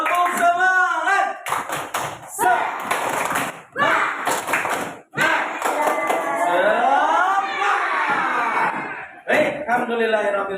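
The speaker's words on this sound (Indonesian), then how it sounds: "Oke, tepuk semangat." A school class claps hands together in short rhythmic bursts during a cheer, the claps mixing with loud chanting voices throughout.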